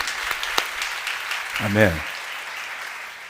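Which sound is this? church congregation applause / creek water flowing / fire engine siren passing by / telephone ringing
church congregation applause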